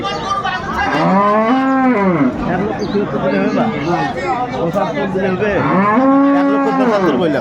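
Dairy cows and calves low loudly at a busy village cattle market in Dinajpur, with two long, drawn-out moos standing out close by over a constant hum of crowd chatter.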